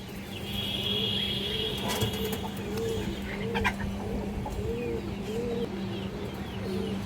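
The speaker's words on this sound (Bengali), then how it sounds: "এই যে দেখেন খুবই সুন্দর একটা কৌতা" Pigeons in a pigeon market coo in a soft, repeated rhythmic pattern close by over steady background hum, with occasional rustling.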